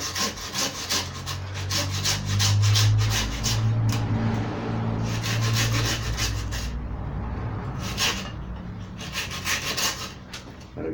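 Rough rhythmic rubbing and scraping on the hard wood of an old fig tree cutting being cleaned, repeated strokes in bursts with brief pauses, close and loud.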